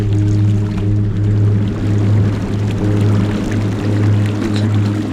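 Swimming against a moving current in the video game Thief: The Dark Project brings a loud, continuous rushing of water with a low rhythmic surge that swells and eases every second or so.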